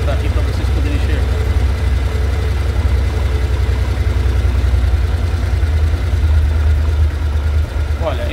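Motorcycle engine idling steadily after stator and rectifier kit installation, a constant low rumbling drone close by with faint clicks, no revving.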